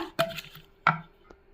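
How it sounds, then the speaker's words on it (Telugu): A wooden dal masher thuds into cooked dal in a pot: two sharp, close knocks about half a second apart, then a lighter tap, with no talking. "ఇప్పుడు మనం పప్పు గిత్తతోటి మెదుపుకుందాం"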